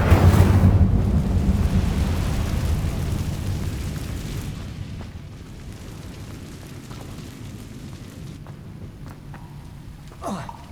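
Incendio fire spell cast in Hogwarts Legacy, a loud rumbling blast of flame at the start that fades slowly over several seconds, with a brief sharper burst near the end.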